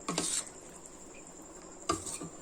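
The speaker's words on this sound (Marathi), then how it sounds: "हे लोणचं आपल्याला थोडंसं व्यवस्थित बराच वेळ थोडंसं हलवून घ्यायचं" Mango pickle in homemade spices being stirred with a utensil, two brief scraping clatters against the container separated by a quiet pause with faint background hiss, close but soft.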